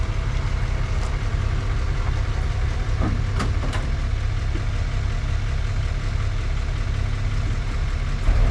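A heavy duty machine's engine idling steadily, a low, constant diesel rumble held close and unchanging, with a couple of faint knocks in the middle and no talk.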